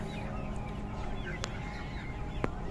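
A flock of 50-day-old Golden Mix chickens with an E. coli problem clucks with heavy, hoarse voices, overlapping calls and a couple of sharp squawks over a dense, continuous farm-shed murmur.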